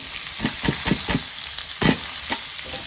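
Chopped potatoes and onion frying in oil, an even sizzle with a rhythmic series of stirring scrapes and taps of a spatula in the pan, close and alone without talk.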